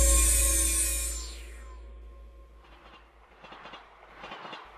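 A train carriage rolls along the rails as an audio drama effect, giving a steady low rumble with a fading high squeal and faint rhythmic clatter.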